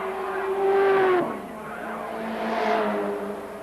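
Touring race cars, a Nissan Bluebird Turbo among them, compete at Symmons Plains in the 1983 ATCC. A loud car screams past with a sharp falling pitch, then more engines roar by close behind.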